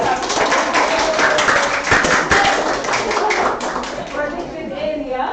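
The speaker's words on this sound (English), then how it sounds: "Clap your hands for your teacher." Schoolchildren at a workshop clapping their hands for their teacher, a steady patter of many small hands close by with children's voices mixed in throughout.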